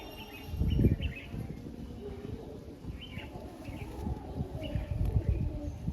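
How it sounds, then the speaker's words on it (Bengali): Madrasi pigeons coo softly in a loft, the low calls faint beneath a steady background rumble and shuffling, with no talking. "যে কটা আছে মোটামুটি প্রত্যেকটাই ভালো পায়রা"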